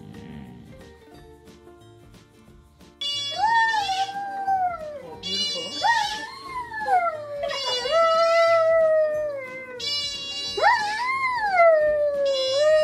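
A dog howls in long, wavering, rising and falling cries, several drawn-out howls in a row, close and fairly loud over a faint low background.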